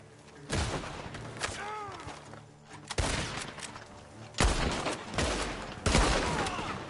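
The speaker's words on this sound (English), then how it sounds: "The gunshots are coming from that barn!" Gunfire from a barn in a PS4 video game: several loud, sharp volleys of shots in bursts, with a short whooshing tone between them and a busy game soundscape underneath.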